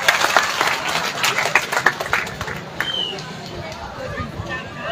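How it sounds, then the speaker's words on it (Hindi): A crowd at an outdoor rally in the rain in Qureshipur village, Faridabad, claps loudly in a dense burst, with murmuring chatter underneath as the applause gradually fades. "एक बार जोरदार तालियों से उनका स्वागत करें"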